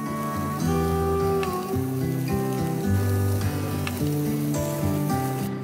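Dried fish (shutki) sizzles steadily in a pan, a continuous close crackling hiss with faint stirring, no one talking.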